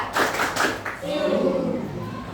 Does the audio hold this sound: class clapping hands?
yes